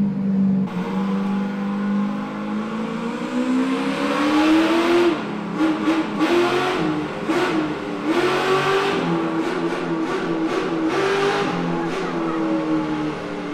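A Chevy LS3 427 engine with eight-to-one headers revs repeatedly, rising and falling throttle blips with a sharp, singing tone over a steady idle, loud and near.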